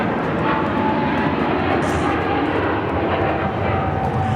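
A Philippine Airlines Boeing 777-300 airliner at LAX gives off a steady, loud jet-engine roar that holds constant and broadband throughout, with no talk over it.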